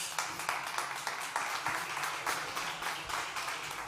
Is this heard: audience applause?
yes